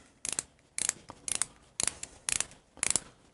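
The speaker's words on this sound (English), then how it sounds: "And when I finish tightening these clamps, I'll do a final tightening on the base nuts" Ratcheting or wrench clicks on the carburetor clamps of a Harley-Davidson Knucklehead engine, six short bursts of sharp metallic clicking at a steady rhythm, close and clear with no talk.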